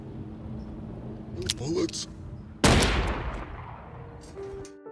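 A sharp pistol shot bursts out suddenly and rings off briefly, set amid background noise and faint rustling.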